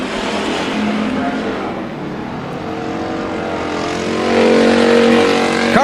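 Race cars at Bakersfield Speedway roar in a steady, loud engine drone that swells near the end, with an announcer's voice talking over the racing.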